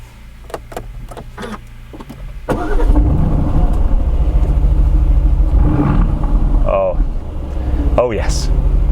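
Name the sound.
Aston Martin Vantage engine running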